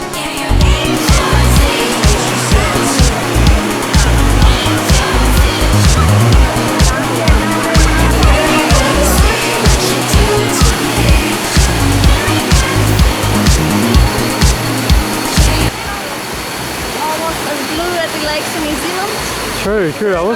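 Roar of the Kuang Si waterfall near Luang Prabang, Laos, a loud continuous rushing wash of falling water close by, with people talking over it.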